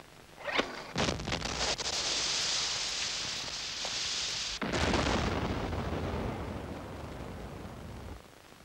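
A battle scene with explosions and gunfire: a sharp early burst followed by a long, sustained roaring blast and a second heavy eruption, loud and close, with no talk.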